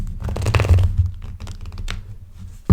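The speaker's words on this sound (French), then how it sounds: "Du coup, je bouge les cartes." Tarot cards slid and shuffled across a table, giving dry scratchy rustles and soft taps in short bursts, close and fairly loud, ending with a louder thump.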